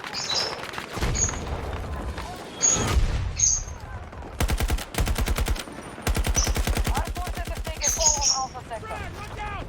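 Battlefield 2042 combat: rapid bursts of automatic gunfire, separate heavy shots and a grenade blast, loud and close, with voices talking intermittently over the action.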